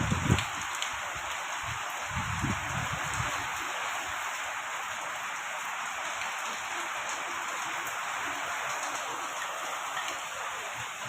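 Rain falls steadily in Bangalore, a dense even hiss of drops on surfaces that carries on unbroken, with a few brief low knocks near the start and no talking.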